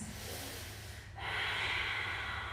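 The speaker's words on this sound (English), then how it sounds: "Take another breath, really big breath." A big, deep yoga breath is drawn audibly through the nose and then released in a long, airy exhale, close and alone with no talk.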